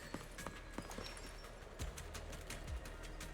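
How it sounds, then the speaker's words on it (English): Game footsteps in Zenless Zone Zero, a few soft thudding steps under a steady ambient background, with a couple of heavier low impacts near the middle and end. "Oh, footsteps."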